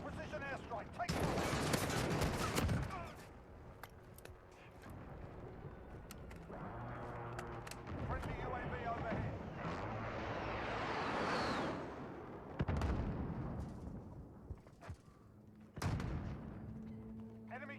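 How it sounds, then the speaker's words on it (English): Precision airstrike in Modern Warfare, with heavy booming blasts and bursts of gunfire rolling through a busy battlefield, loud impacts near the start and again midway, and voices talking at times over the din. "Enemy precision airstrike. Take cover."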